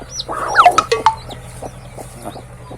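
Hens and newly hatched chicks cluck and peep at close range, with a burst of calls early on followed by sparse, softer clucks in a village hatching area.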